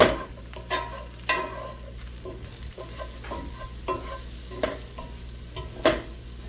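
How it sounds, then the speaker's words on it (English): Oven-roasted carrots just pulled from the oven crackle with faint sizzling, punctuated by sharp clinks and scrapes of a utensil moving them around the pan, quiet and close with no voices. "Making good sound, sizzling still"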